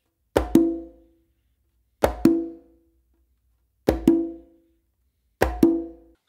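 Merengue exercise on a conga: a closed palm slap from the non-dominant hand, followed immediately by an open tone from the dominant hand, heard as four evenly spaced two-stroke pairs, close and clear, each tone ringing briefly.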